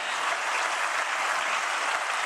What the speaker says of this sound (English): Another round of applause for the brilliant Malaika Wamahoro.